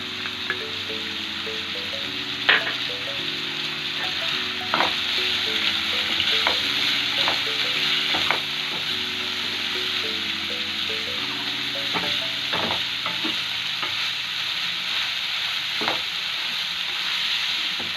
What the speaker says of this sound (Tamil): கட் பண்ணி வச்சுருக்க கோஸ் ஆட் பண்ணிக்கலாம்.